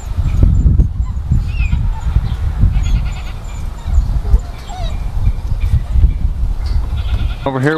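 Indian game fowl and other birds call in a noisy outdoor pasture at a safari park, honking and bleating cries rising over steady crowd and ambient noise, with a brief sharp squawk near the end.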